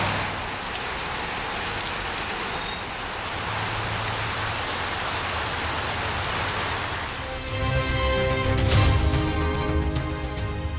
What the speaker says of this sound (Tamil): கன்னியாகுமரி மாவட்டத்தின் பல்வேறு பகுதிகளில் கனமழை.